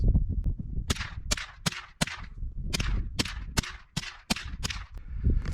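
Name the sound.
rifle shots, .22 LR Aguila rounds at 50 yards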